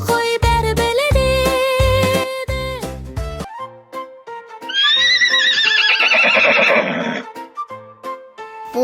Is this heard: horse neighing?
yes